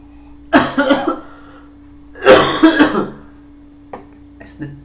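Two bursts of coughing after sniffing a carbonated drink, each a short cluster of rough hacks, close and fairly loud, followed by a few faint clicks and quiet breaths.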